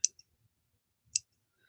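Two quick, dry snips of dull scissors trimming loose thread stitches off a page, spaced about a second apart, crisp and close in an otherwise quiet room.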